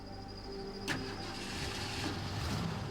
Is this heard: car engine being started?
yes